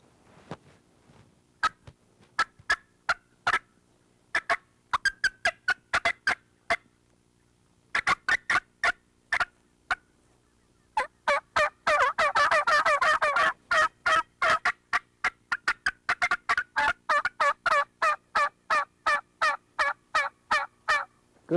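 A mouth call imitates two turkey hens cutting, firing sharp, rapid clucks in uneven bursts that become a dense, overlapping flurry midway, then settle into a steady run of loud, evenly spaced notes.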